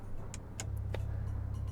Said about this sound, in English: This is with the valve closed. It makes a noise, but it's very tame.